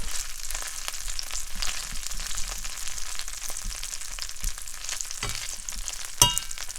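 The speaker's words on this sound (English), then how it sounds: "So I'm going to add my breadcrumbs in, and it wants me to cook it." Breadcrumbs browning in a hot cast iron pan give a steady, soft sizzle with scattered stirring scrapes, and a sharper knock of the pan against the stove top near the end.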